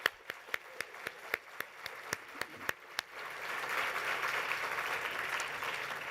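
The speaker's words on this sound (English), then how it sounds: "Let's have one big, robust round of applause for our sponsors." Audience at the Poinsettia Awards 2023 giving a round of applause for sponsors, opening with a dozen sharp, evenly spaced claps before swelling into sustained full-room clapping.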